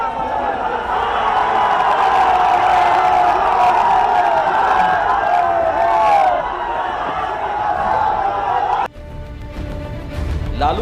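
Huge crowd at a Lalu political rally in Bihar roaring and cheering in a dense, sustained wash of shouts and whoops that cuts off abruptly near the end.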